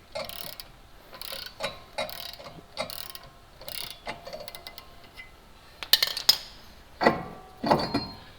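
Ratchet clicking in short repeated bursts while loosening brake hub bolts on a car, a breaker bar bracing the hub, followed by a few sharp metallic clinks; close and moderately loud.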